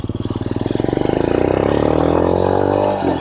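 Royal Enfield Scram 411 motorcycle fitted with an AEW Thunder Pipe stainless exhaust, loud and close, its thumping pulsed idle climbing into a smooth rev and holding high before easing off.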